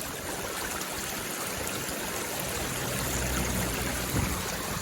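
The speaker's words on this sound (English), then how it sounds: "It's like a little waterfall." Water spilling over a rock dam in a small creek like a little waterfall, a constant rushing trickle that stays steady and close from start to finish, with no one speaking.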